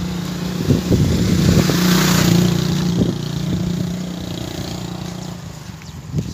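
A tractor engine runs steadily close by on a village farm, a loud continuous mid-pitched drone with some clatter and a slight swell in revs, no voices.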